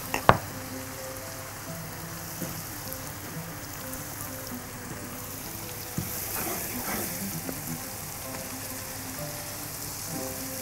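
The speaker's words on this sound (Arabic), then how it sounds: "وبنقلبهم مع بعض كده تشويحة" Carrots, greens and other vegetables sauté with salt and pepper in a pan for a roasted pepper, rice and meat dish: a steady crackling sizzle throughout, a sharp knock at the start, and louder scraping and tossing toward the end.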